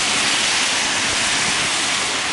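Steady, loud broadband roar of heavy rain and gusting wind during Hurricane Sandy in downtown Leominster, a continuous wash of noise with no pauses and no voices.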